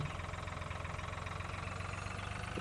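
A tractor engine idles steadily in Farming Simulator 2013, with a close, even, throbbing rumble that keeps a regular pulse throughout and has no talk over it.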